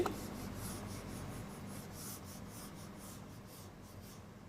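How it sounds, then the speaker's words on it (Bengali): A classroom board being wiped clean during a lesson, a faint continuous rubbing swish with soft rhythmic strokes, no talk over it. "আমি তাহলে এবার এটা মুছে দিচ্ছি।"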